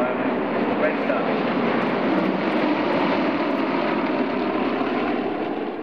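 Yak 52 aircraft of the Red Star display team fly overhead at the Warbirds over Wanaka airshow in New Zealand, giving a steady, loud, continuous radial-engine drone with no breaks.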